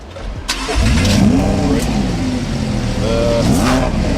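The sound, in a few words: Lamborghini Huracan Spyder engine starting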